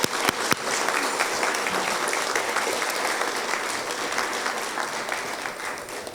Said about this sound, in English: Let's give these young people another round of applause as they do a wonderful job